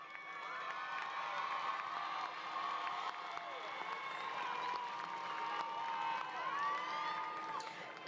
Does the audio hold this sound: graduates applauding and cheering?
yes